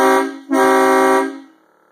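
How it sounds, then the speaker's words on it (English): A train-style air horn fitted to a Duramax truck blasts twice, a brief first note then a longer one, very loud and close with a rich droning tone before trailing off. "Here's the air horn."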